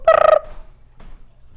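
A person voices an imitation of a western screech owl's trill, a short, loud, rapidly pulsing whistled note lasting under half a second, followed by quiet.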